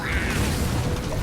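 A flamecannon spell goes off in a card video game, a short, dense whooshing blast with a booming low rumble that fills the whole moment.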